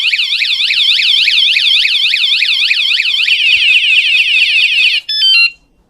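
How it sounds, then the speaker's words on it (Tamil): A bicycle anti-theft alarm sounds loud and close, with a repeating rising-and-falling electronic wail that speeds into a faster warble, then ends in a few sharp beeps before cutting off. No one speaks. "சைக்கிள் யாராச்சும் தொடுறாங்க அப்படின்னு ஃபஸ்ட்டு ஒரு அலாரம் வந்துருச்சு"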